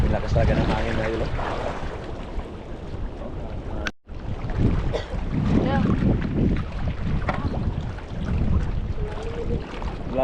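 Gusty strong wind pounds the microphone in a continuous loud rush, cutting out for a split second before surging back, while people talk faintly beneath it.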